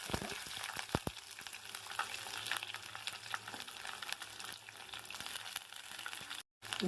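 Garlic cloves and curry leaves fry in hot oil, giving a steady close sizzle with a few sharp crackles and utensil knocks near the start and a brief drop to silence near the end.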